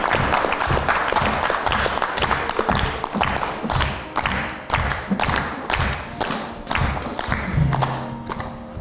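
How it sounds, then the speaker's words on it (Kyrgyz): A studio audience on a Kyrgyz television show claps loudly and continuously, a thick, crackling burst of many hands with occasional thumps that holds for nearly nine seconds. "Кол чабып коелу анда, Мадина."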